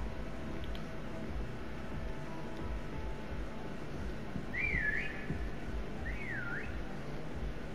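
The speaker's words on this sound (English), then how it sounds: "There's two people whistling, so I'm thinking it tells you where we are." Two people whistling somewhere nearby in Call of Duty: Black Ops Cold War, a pair of short rising-and-falling whistles sounding late over a steady ambient game hum.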